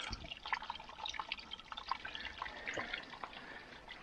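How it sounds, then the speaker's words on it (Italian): Small stream of water trickling in a rocky creek, with light drips and soft burbling running steadily and faintly throughout, no voices. "Eccolo qua, rigagnolino."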